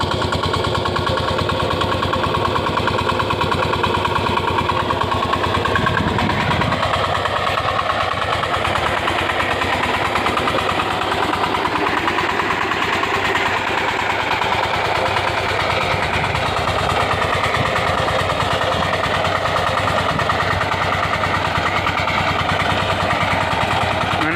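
A tractor engine runs steadily on a farm beside a cotton field, a loud, close, continuous rumbling chug that holds for the whole stretch without pause, no voices.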